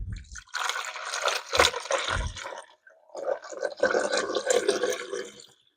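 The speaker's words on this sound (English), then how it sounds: "Fill your water up to there." Water pours and splashes into a portable countertop ice maker's reservoir in two bursts separated by a brief pause, close and fairly loud, with no talking.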